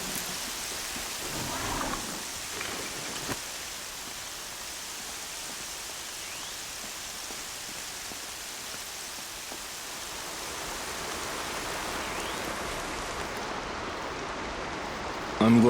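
Steady rainfall in Horizon Zero Dawn, a continuous hiss of falling rain spread evenly across the scene, holding at a moderate level without breaks.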